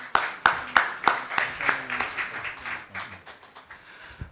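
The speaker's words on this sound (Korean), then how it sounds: "큰 박수로 모셔주시기 바랍니다" Rhythmic, fairly close clapping at a parliamentary policy seminar welcomes a lawmaker to the stage, starting as strong unison claps and thinning into softer scattered ones, with faint talk underneath.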